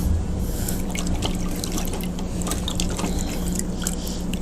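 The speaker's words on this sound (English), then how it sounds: "Rinse off the brush or the sponge real good." A paint brush or sponge is rinsed in water, a continuous close splashing and trickling with small drips and sloshes throughout, no talking.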